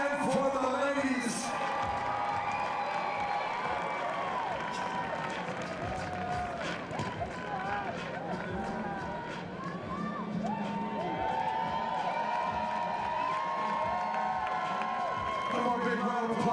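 A large crowd at the Wodapalooza fitness competition in Miami claps, cheers and whoops for the competing teams, a dense, continuous wash of noise with shouts rising above it throughout.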